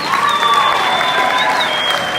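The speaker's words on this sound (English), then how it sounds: "Let's give them a round of applause." Wedding guests applauding at a reception, a steady wash of clapping from a sizable crowd with faint whistle-like tones running through it.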